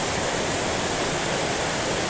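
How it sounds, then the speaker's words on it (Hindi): Water falls hard at a forest waterfall below a small dam, a loud, dense and unbroken roar that fills the whole moment, close by, with no talk. "ये देख लीजिए यहाँ का कितना जोर से पानी नीचे गिर रहा है"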